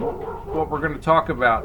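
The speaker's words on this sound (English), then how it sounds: "that's not a horse, that's our dog barking at a Amazon delivery" A dog barks at an Amazon delivery somewhere nearby, with short yips and woofs that sit mostly under someone speaking clearly in the foreground.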